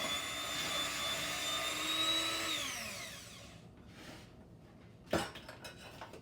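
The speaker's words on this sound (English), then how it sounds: "Back to our mixer." An electric mixer whirring through chocolate chip cookie dough, its high motor whine steady and then sliding down in pitch as it winds to a stop, followed by a sharp clink of a utensil against the bowl.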